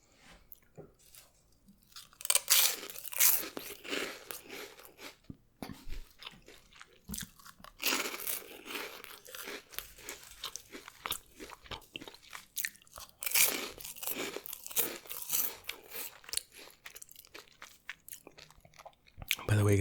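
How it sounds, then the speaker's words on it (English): Cheetos crunched close to the mic during a soft-spoken eating session, with repeated crisp bites and chewing, loud and steady across the clip, occasional quiet soft speech mixed in. "let me know if the crunching is too loud in these videos"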